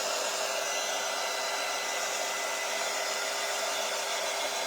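Hair dryer blowing on wet mud over a wooden spring-birds craft kit, a constant loud airy whir that holds steady from start to end with no talking.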